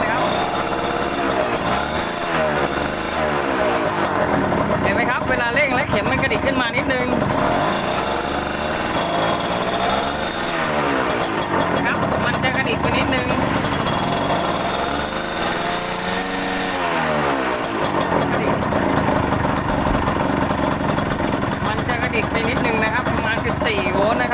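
A W100 motorcycle engine is revved repeatedly while its charging system is tested, the pitch rising and falling in several swelling surges over a continuous idle, with someone talking throughout.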